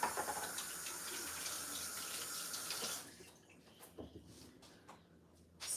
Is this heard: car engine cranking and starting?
no